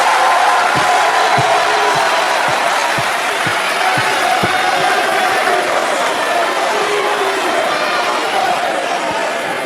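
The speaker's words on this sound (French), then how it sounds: "applaudissez-vous, s'il vous plaît, fortement pour votre présence" A large crowd at a pan-African political speech in Congo roars and cheers continuously with a dense wash of noise, punctuated by scattered sharp thumps; it sounds loud and close.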